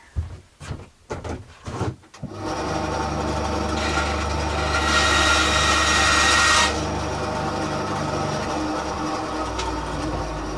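A few sharp knocks, then a small power drill cutting wood on a Fender Stratocaster whirs steadily, its pitch rising briefly as it bites into the wood before settling back to a constant drone.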